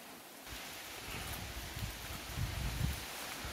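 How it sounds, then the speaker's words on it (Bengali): Rain and gusting wind sweep through a tea garden, a soft hiss of drops on leaves swelling with surges of low rustling gusts, growing a little louder toward the end, with no talking. "প্লাস বৃষ্টির শব্দ"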